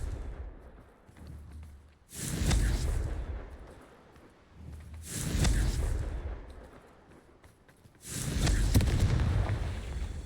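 Three heavy fiery blasts from the Confringo spell in Hogwarts Legacy, each a deep booming roar that swells and rumbles for a couple of seconds, spaced evenly and loud, with a softer whoosh between them.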